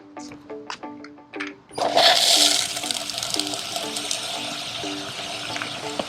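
A sudden rush of spraying water from four upward jets on an Intex pool vacuum cleaner bursts in and continues as a steady, loud hiss, while a rhythmic mechanical beeping pattern runs underneath.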